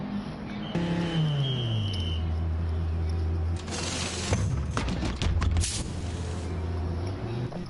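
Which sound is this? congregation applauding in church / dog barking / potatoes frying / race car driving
race car driving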